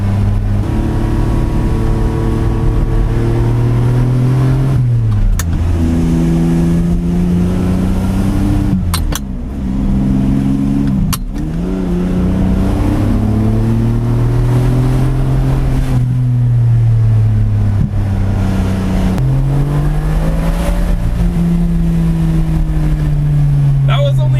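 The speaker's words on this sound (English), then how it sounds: "We're only going like 60 miles an hour and it sounds ridiculous, especially with this gated manual" A gated-manual collector car in Beverly Hills, driven at about 60 mph in second gear at high revs: a loud, droning engine note that climbs and drops with throttle and shifts, with occasional voices under the roar.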